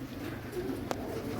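Pigeons coo softly in a rooftop loft during training, with low, throaty coos repeating over a constant background hum and one brief click.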